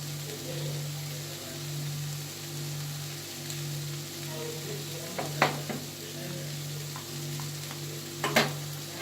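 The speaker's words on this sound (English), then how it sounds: "I'm gonna give it a stir." Hashbrowns are stirred in a hot skillet, giving a soft, continuous sizzle with a steady background hum and a few sharp scraping clinks of the utensil against the pan near the middle and end.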